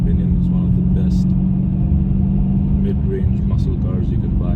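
Dodge Challenger Scat Pack with a naturally aspirated 6.4-liter V8, a steady low engine rumble while driving, constant and fairly loud beneath someone talking.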